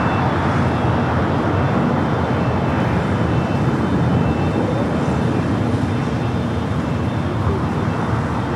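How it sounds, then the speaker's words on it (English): A jet aircraft departing runway 25 right at Los Angeles International Airport, a loud, continuous broadband engine roar that holds steady throughout, heard from a distance. "We'll have a departure on 25 right."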